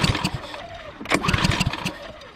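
A Cub Cadet lawnmower engine is pull-started, giving a short burst of rapid sputtering chugs and cranking pops, loud and close, with a brief rising whir in the middle.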